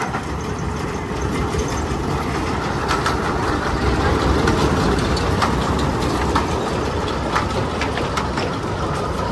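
A short toy train ride to Elephanta Caves, a continuous close rumble and rattle of the small train running along its track with engine drone and occasional clanks, no voices.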